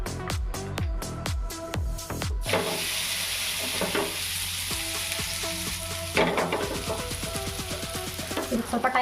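Food fries in a generous amount of oil in a pan, a steady bright sizzle broken by scraping stirs early on and again near the end.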